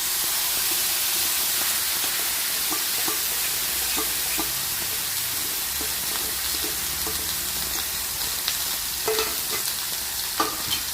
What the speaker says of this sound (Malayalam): നെയ്യ് ചൂടായിട്ടുണ്ട്. ഇവിടെ നെയ്ക്കകത്തോട്ട് നമ്മൾ ഉടച്ചു വെച്ച നമ്മുടെ പഴം ഇട്ട് കൊടുക്കാമേ.